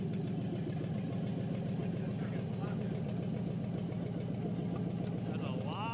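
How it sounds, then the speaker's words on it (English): A 1999 Suburban V8 swapped into an S10 truck idles with a steady, close, even rumble, its low pulsing constant throughout, with a brief squeaky chirp near the end. "this engine now sounds a lot more like the engine out of a 1999 Suburban"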